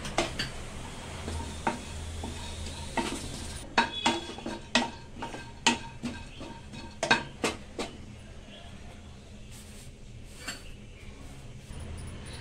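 Half a cup of coconut roasts in a pan while a metal spoon stirs it, producing a run of sharp clinks and scrapes, about a dozen close taps in the middle, over a faint background sizzle.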